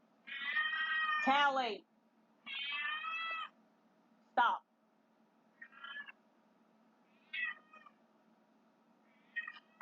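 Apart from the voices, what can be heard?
cat meowing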